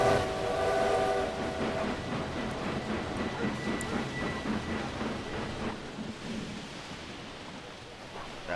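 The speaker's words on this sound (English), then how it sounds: "so I've caught the Oxford to London train." A steam-era style train rolling from Oxford to London in the Railway Empire video game, a continuous rumbling run with clattering wheels and a faint whistle early on, fairly loud and steady without speech.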